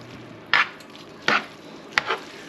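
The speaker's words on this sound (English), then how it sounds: "put some of this beautiful mushroom meat sauce on top. Mix it all in there" Three soft scraping swishes spaced about a second apart as mushroom meat sauce is stirred into spaghetti in a pan, over a low steady background.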